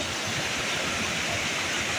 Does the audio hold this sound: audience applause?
no